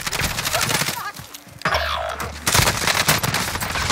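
Bursts of rapid gunfire crackle in Call of Duty: Modern Warfare, some close and loud, mixed with game sound effects and excited voices talking over them.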